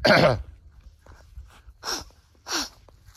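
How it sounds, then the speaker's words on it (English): A loud, close sneeze bursts out at the start, followed by a few softer sniffs and breathy snorts. "I don't want to get into a sneezing fit again"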